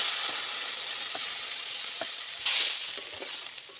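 Small chanda fish sizzling steadily in hot oil with panch phoron and onion in a pan, a bright continuous hiss broken by faint crackles and one louder spitting burst partway through, heard close and alone.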